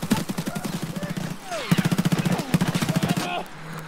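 An automatic weapon in Escape from Tarkov fires several long, rapid bursts, loud and close, with brief pauses between volleys and a player talking over the gunfire.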